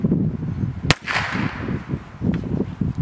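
A single sharp, loud gunshot cracks outdoors as a faster bullet is fired over a chronograph, followed by a short echoing tail. A fainter snap comes later, and a low wind-like rumble runs throughout.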